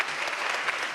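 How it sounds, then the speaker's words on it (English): Audience at a European business and nature summit panel claps loudly in a dense, sustained burst of applause that fills the hall for about a second. "Can I just ask one even louder clapping of the hands for Eva"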